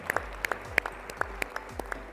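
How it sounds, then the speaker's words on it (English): Audience applause at a colorectal cancer research gala, a steady patter of many hands clapping with some sharper individual claps standing out, fairly near. "Give a round of applause."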